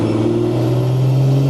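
Nissan Patrol TD42 turbo diesel with an F66 turbo on a dyno, a brief light-throttle rev with a loud, close, steady low engine drone rising slightly in pitch.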